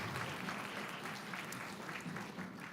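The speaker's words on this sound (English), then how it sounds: "You can give them a round of applause." Sustained round of applause from the audience at a middle school winter band concert, a soft, even wash of many hands clapping heard from a distance with a slight tail-off toward the end.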